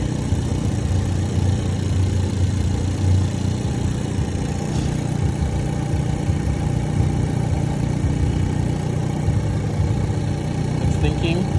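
A brand new engine in a 2019 Hyundai Veloster idles: a steady, loud, even running drone with no break, close to the microphone throughout.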